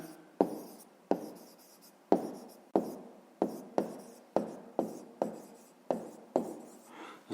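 A pen writes on paper during a fifth-grade maths exercise, making about a dozen sharp, evenly spaced strokes and taps, each with a short scratchy tail. The sound is close and clear, with no voice.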